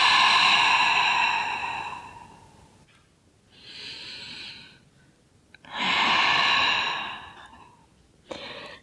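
A person exhales slowly and forcefully through the mouth during a yoga sequence, giving long breathy whooshes that are loud and close. Several breaths come in and out with pauses between them, and no talking.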